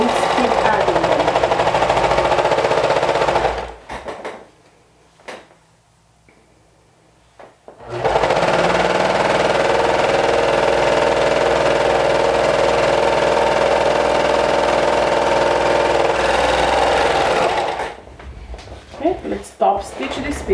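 A sewing machine top stitches fabric pieces in long, steady, loud whirring runs, stopping for a few seconds in the middle and again near the end.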